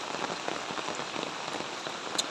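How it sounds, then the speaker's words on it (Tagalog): Heavy rain pours down steadily on a fruit farm, a dense, hissing wash of drops drumming on surfaces with no pauses, loud and close. "Malakas po kasi ang ulan."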